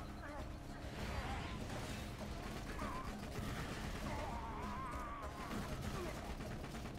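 Fire-damage weapon gunfire in Borderlands 2, dense, continuous shooting with crackling bursts and impacts running the whole time, with a voice talking over it.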